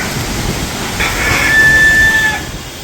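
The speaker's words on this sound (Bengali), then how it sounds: "বৃষ্টি ফোটা পড়তেছে বড় বড় ফোটা পড়তেছে" A heavy village rainstorm with strong wind makes a loud, steady rushing roar that swells toward the middle, with a thin whistling tone briefly riding over it and no talking.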